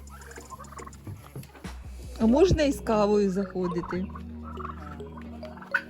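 Turkeys gobble and chatter close by in a burst of rapid warbling calls, with people talking over the flock.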